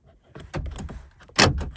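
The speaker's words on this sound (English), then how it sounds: "See the door locks work." Power door locks on a Toyota Tundra actuating, a few sharp mechanical clunks and thuds close by, with the loudest clunk near the end.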